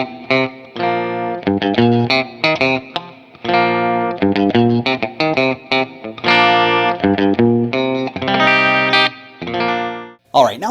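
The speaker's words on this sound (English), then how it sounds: "And then when we slap it into the bridge single coil," Sterling Cutlass electric guitar on its bridge single coil pickup, strummed in a run of bright, twangy clean chords and short staccato hits, close and loud throughout with no voices.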